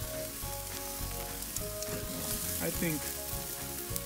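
Steaks sear on a hot grill with a constant crackling sizzle, faint and steady throughout, while a voice briefly speaks over it.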